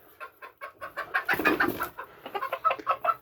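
Phoenix chickens, a breed crossed with game fowl, cluck in a quick run of short, close calls, with one louder squawk in the middle.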